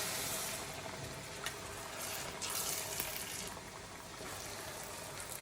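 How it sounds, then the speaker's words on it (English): Water pours steadily into a cooking pot as six cups are added for Nigerian party jollof rice, a continuous close splashing gush lasting the whole time with no talk. "I'm going to add some water now."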